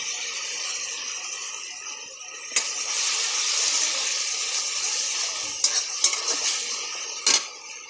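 Poppy seed paste stirred into vegetables frying for a vegetarian navratan dish, a steady hiss of sizzling with scraping strokes and a few sharp spoon clinks against the pan.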